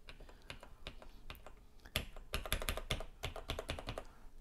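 Rapid irregular key presses on a TRS-80 Model 100 portable computer keyboard, a dense run of sharp close clicks that grows busier partway through, with no talk over it.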